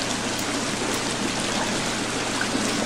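A waterfall inside a cave in The Forest video game rushes as a steady, even wash of falling water, constant and moderately loud with no pauses, no voices and no other sounds.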